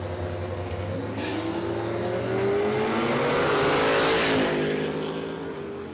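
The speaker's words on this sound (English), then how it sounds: "Daniel Costello, turbocharged LS in the Monaro." A turbocharged LS-powered Monaro drag car launches at a dragstrip, its engine a loud sustained roar with a rising pitch as it pulls away, blended with other race cars running nearby.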